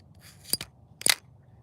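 A 2500 size spinning reel from a 2025 rod and reel review gives two short, crisp bursts of clicking close up, separated by a brief pause in near silence.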